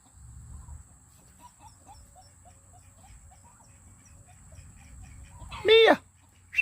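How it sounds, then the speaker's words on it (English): Chickens and turkeys on a farm, with soft scattered clucks and low calls at a distance, then a sudden loud, close squawk near the end over quiet outdoor background. "Checking out the chickens and the turkeys."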